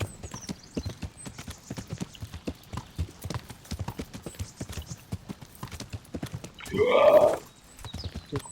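Horse hooves clip-clop in a steady rhythm throughout a scene from the video game Kingdom Come Deliverance, with one loud neigh partway through.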